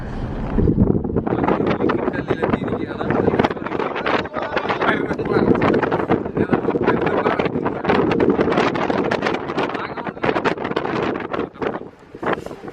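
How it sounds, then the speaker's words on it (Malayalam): Strong wind at the Parunthumpara viewpoint in Idukki buffets the microphone in loud, continuous gusts with hard rumbling bursts, and people talk under the roar. "നല്ല കാറ്റാ"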